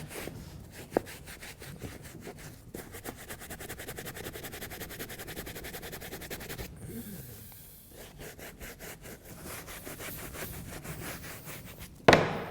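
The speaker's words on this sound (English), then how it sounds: "I'm also going to clean the speed hump because the leather cleaning brush is gentle enough to clean pretty much any surface" A leather cleaning brush scrubs a leather motorcycle race suit's speed hump, giving rapid, rhythmic bristle strokes close up, steady and fairly quiet, broken by a short pause midway.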